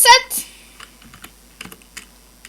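A computer keyboard is typed on while code is written for a Minecraft 1.7.10 mod. Sparse close key clicks come in short bursts after a brief spoken sound at the start.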